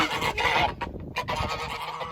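Geese honking loudly and continuously in a pasture, several birds calling at once in raucous, overlapping bursts with no pauses.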